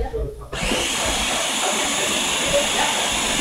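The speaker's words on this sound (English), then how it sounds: "Over the sound of the blender." A kitchen blender runs continuously while smoothies are made, a loud steady whirring roar that kicks in after a brief quiet start.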